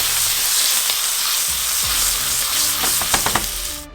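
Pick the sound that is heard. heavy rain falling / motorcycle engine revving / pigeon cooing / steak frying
steak frying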